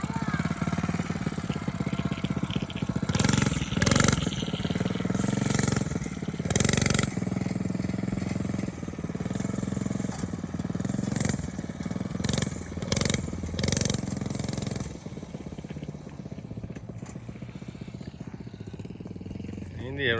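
Coleman 100cc mini bike engine running as it is ridden outdoors, a steady motor drone that rises and falls in pitch over about twenty seconds, with people talking nearby.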